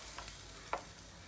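A spoon stirs fish curry with chopped tomatoes in a pan, a quiet low sizzle with a few soft scrapes and one brief clink over about a second.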